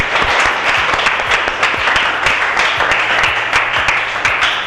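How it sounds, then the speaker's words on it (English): Audience applause after a group presentation about a West Borneo culinary event, dense and steady clapping filling the room from start to finish at close range. "Give applause for them."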